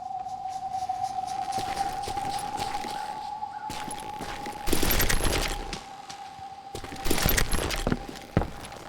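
Gunshots in the Western shooter Call of Juarez: Gunslinger, a rifle firing from a rooftop, heard as a few loud sharp bursts over a steady game hum and tone, with two or three heavier volleys spaced several seconds apart.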